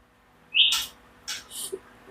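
A hand-tame white-rumped shama (murai batu) calls close by, giving a short sequence of sharp bright whistled notes and clipped chirps with pauses between them, no speech.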